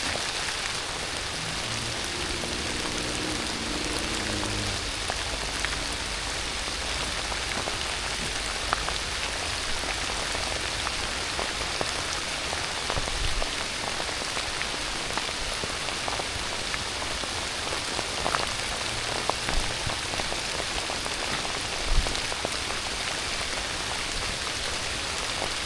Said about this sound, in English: it's starting to rain a good deal harder. I'm sure you can hear it.